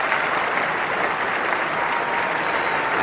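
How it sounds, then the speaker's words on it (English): Cricket crowd applauding a batsman's century at a Test match between England and Australia, a steady, dense wash of clapping that stays loud and even throughout. "A marvellous ovation from the crowd, from his teammates."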